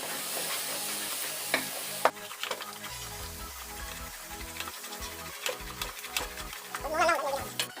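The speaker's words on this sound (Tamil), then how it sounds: "நல்லா கிளறி விட்டுக்கோங்க." Ash gourd halwa is stirred in a pan with a steady soft scraping and a low sizzle. The sounds come close and continuous, with occasional louder scrapes of the spoon and no talking.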